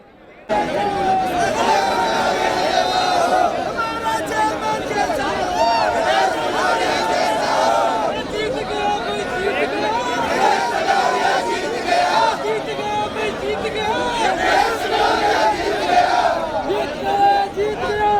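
A large, dense crowd of supporters at an election counting centre in Sujangarh, cheering, shouting and chanting together to welcome the winners, loud and continuous with no letup.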